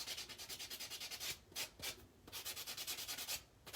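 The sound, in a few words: buffing fingernails with a nail buffer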